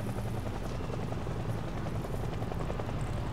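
A helicopter circles in the zombie survival game Project Zomboid, its rotor drone a steady, dense roar with a faint rhythmic chop that holds at the same loudness throughout, with no voices over it.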